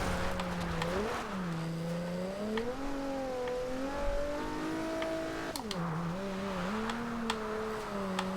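A 2010 Nissan 370Z engine in Forza Horizon 2, loud and steady as the car drifts, its pitch dipping and rising through shifts and throttle changes, with faint tire noise and no talk.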